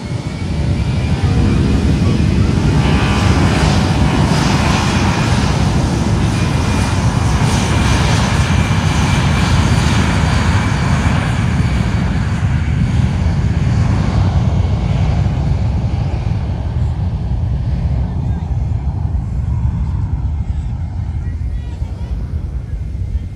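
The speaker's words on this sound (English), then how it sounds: "let's watch the 757 take off, followed by Cape Air, then the Spirit A321" A Boeing 757 jet takes off at San Juan airport, a loud, sustained engine roar that slowly fades toward the end as the aircraft climbs away, with a person talking at times.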